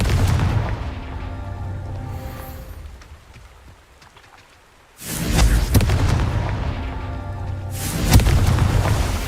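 The Confringo blasting spell in Hogwarts Legacy, two heavy booming explosions with crackling tails, the first opening the stretch and the second hitting about halfway, separated by a quieter lull.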